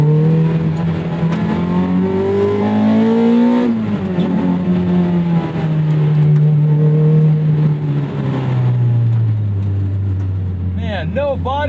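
A 2001 MR2 Spyder with a swapped 2ZZ engine drives hard, its engine note climbing, dropping at a gear change, then droning and slowly falling, loud and steady from inside the car.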